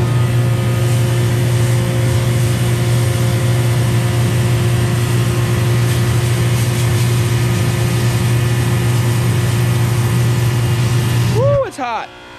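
A heated pressure washer's engine runs with a loud, steady, close drone that holds unchanged for about eleven seconds, then cuts off abruptly as a brief voice is heard at the end.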